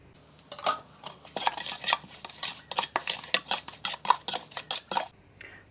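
A utensil stirs and clinks against a bowl while mixing Thai santol salad with fermented fish sauce, a rapid run of sharp, close knocks in a fairly even rhythm.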